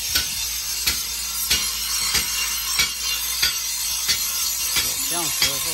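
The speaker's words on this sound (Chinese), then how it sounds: "这是打铁的" A blacksmith hammers metal in an old riverside town, with sharp ringing strikes repeating at a steady rhythm roughly every half second, fairly close and alone without talk.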